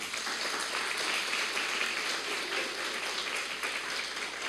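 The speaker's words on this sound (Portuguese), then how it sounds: "Vamos dar uma salva de palmas para Jesus hoje?" A church congregation at a service claps together, a dense, steady round of applause lasting several seconds with no speech over it.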